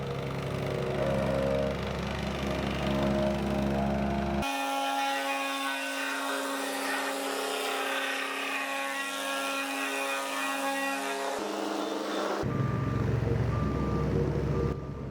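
Heavy construction machinery moves gravel for a new driveway during a rancher-style home remodel, giving a loud, continuous engine drone with steady tonal whine and rumble that shifts in pitch partway through, with no talk.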